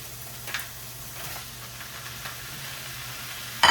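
Ground beef sizzles in a skillet with garlic, a soft, steady frying hiss with faint stirring scrapes and a sharp clatter near the end.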